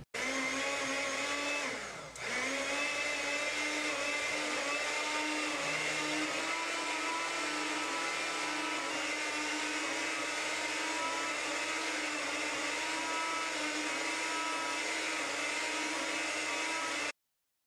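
An electric mixer churns a soil sample for texture analysis, a steady motor whine with a brief dip near the start, then an even, unbroken drone that runs to the end.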